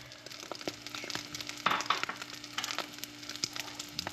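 An omelet frying in a pan on an induction cooktop, with a soft, continuous sizzle broken by scattered crackles and pops, close by and fairly quiet.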